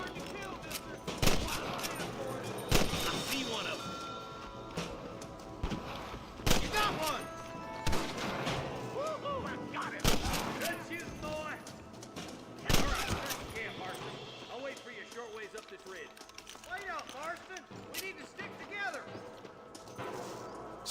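Repeated gunshots ring out in the Red Dead Redemption video game, sharp cracks spaced every few seconds over a busy backdrop of character voices, hoofbeats and background music.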